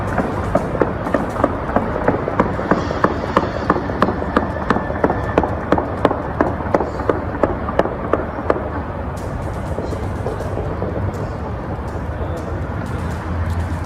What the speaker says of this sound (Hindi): जहां मशीन गन का इस्तेमाल किया जा रहा है।